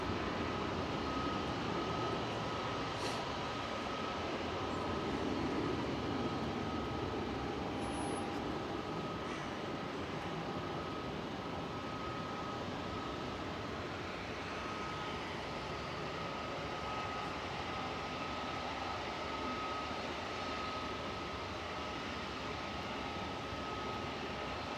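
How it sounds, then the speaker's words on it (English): An Ethiopian airliner taxis at Manchester Airport, heard as a faint, distant, steady engine drone and whine that holds almost unchanged for the whole stretch. "So the Ethiopian's just leaving, just left 23 right now. It's taxiing into the terminal."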